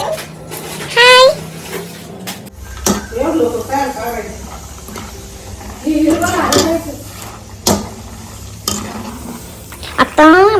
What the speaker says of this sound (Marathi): सर्वात पहिले मी घेते शेंगदाणे तळून, जे भाजलेले आहेत ते, पण आता तळून घेते.